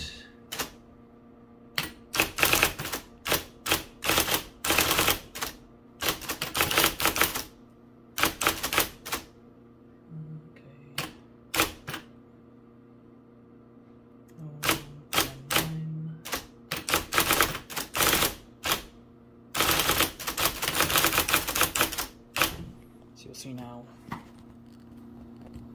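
A 1980 IBM Selectric III electric typewriter with some sticky keys types business cards. Rapid bursts of crisp key strikes are separated by short pauses over a faint steady motor hum.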